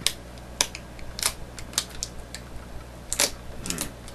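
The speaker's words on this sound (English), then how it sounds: "Or I'll just peel it off instead." Plastic wrap being peeled off an Xbox 360 Elite box, sharp crinkly crackles in short irregular bursts close to the microphone, with quiet gaps between pulls.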